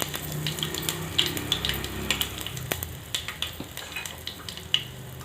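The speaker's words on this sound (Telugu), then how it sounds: "ఆవాలు టపటప అంటున్నాయి మెంతులు కూడా వేగిపోయినాయి" Mustard and fenugreek seeds spluttering in hot oil for a gooseberry pickle tempering, with a steady low sizzle broken by frequent small crackling pops across the whole stretch.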